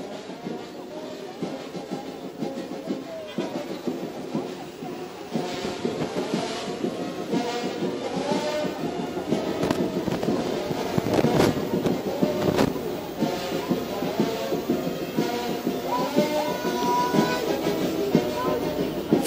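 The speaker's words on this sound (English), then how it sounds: "The last troop from the 15 Armored Brigade is made up of the Rattle Armored Fighting Vehicles" Ratel armored fighting vehicles of Ghana's 15 Armored Brigade rolling past in an Independence Day parade, giving a steady, heavy mechanical rumble with rattling that holds for the whole stretch while voices carry faintly underneath.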